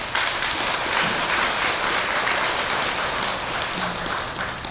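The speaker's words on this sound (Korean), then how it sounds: "박수 한번 보내주세요" An audience at a temple Dharma gathering breaks into a steady, dense round of applause that carries evenly for several seconds at moderate loudness.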